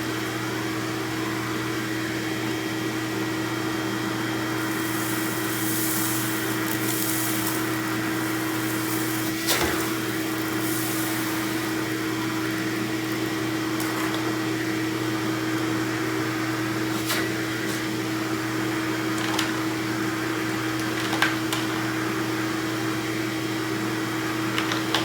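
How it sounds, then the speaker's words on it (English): A shop vac on a mobile dust collection cart runs steadily with a constant motor drone and hum, occasionally rattling as debris is sucked up, with no voices. "I am going to measure how loud this Shop Vac is, both open and contained"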